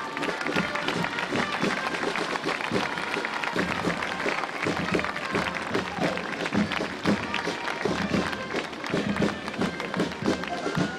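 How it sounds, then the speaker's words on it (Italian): A large outdoor crowd applauds at a medieval-style town festival, the Palio dei Normanni, after a troupe of drummers builds a human pyramid, producing a loud, dense, continuous wash of clapping and crowd noise throughout. "Facciamo un grande applauso."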